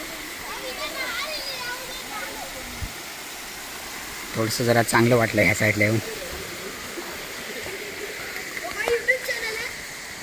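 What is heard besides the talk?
small waterfall at Mumbra hill, water falling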